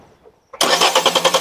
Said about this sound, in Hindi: देखो क्रैंक मार रहे हैं